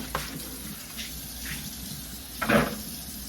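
Tap water running briefly into a kitchen sink to rinse skirt steak, heard as faint, intermittent splashes with one louder gush near the end, with no talking.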